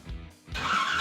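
A twin big block V8 setup roars on a dyno during a final run after timing and fuel tuning, a dip then a loud sustained rising howl.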